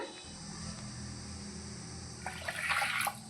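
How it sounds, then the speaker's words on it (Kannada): Water runs steadily into a cooking pot, about two glasses' worth, while drumstick sambar is being made; a continuous pouring wash with a brighter splashing burst near the end, with no talking. "2 ಲೋಟ ನೀರು ಹಾಕ್ಕೊಳ್ತೀನಿ."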